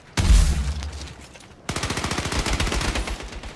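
Shooter video game gunfire: one heavy blast opens, then a rapid automatic stream of evenly spaced shots rattles on loudly to the end, with no voices over it.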